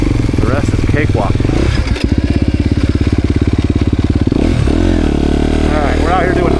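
A dirt bike engine drones loud and close on hot laps, with a continuous throbbing note that rises and falls as the rider works the throttle, plus rough wind noise throughout.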